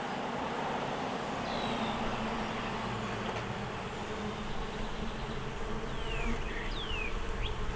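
Honey bees buzzing steadily around an open beehive during an inspection of its frames, a loud, continuous close-up drone with no talking.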